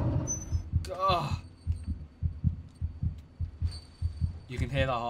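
A heartbeat sound effect in the horror video game Among the Sleep, a steady low double-thump pulse repeating throughout, with a person's voice breaking in briefly over it.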